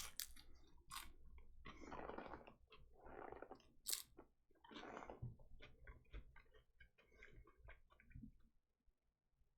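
Crunchy vegetable tempura from a sushi meal being chewed close to the microphone, giving quiet, repeated crisp crunches and bites in an otherwise calm room.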